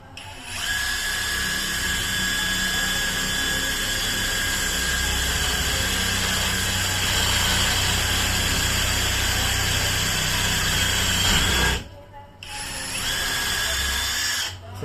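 A Dongcheng DCPB358EM brushless impact wrench drives into teak wood in a loud, continuous high-pitched whine lasting over ten seconds, then briefly stops and restarts.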